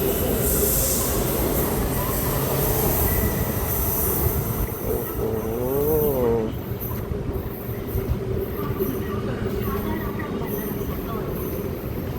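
A BTS Skytrain train at Mo Chit station in Bangkok rumbles steadily, its wheels squealing in a wavering tone partway through, with a continuous loud roar throughout.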